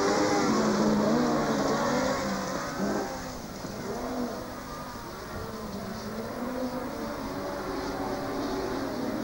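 Speedway motorcycles race around a dirt track at a 1996/97 meeting in Adelaide, a steady loud engine roar that dips slightly midway, with broad crowd and venue noise and no speech.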